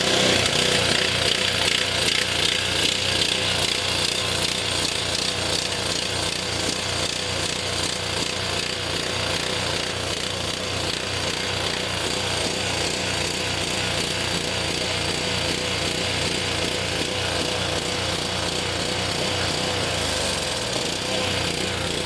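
The engine of a Honda HS520 snowblower runs steadily and loudly up close, a continuous rough chugging with no pauses.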